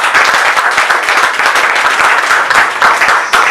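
Loud, close congregation applause at a Christian consecration service for a camp, many hands clapping in a busy, crackling mass with sharp individual claps poking through, continuous and without talk.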